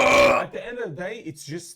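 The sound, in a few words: burp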